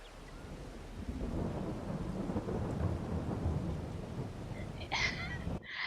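In the farming game Farming Simulator 22, steady rain falls with rolling thunder rumbling low beneath it, fairly quiet and continuous, with a brief brighter crackle near the end.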